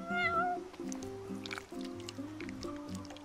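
Several short meows from a cat in the video game Final Fantasy XV, a quick rising cry followed by softer mews over a tonal musical backing, with a faint wet squishing sound in between.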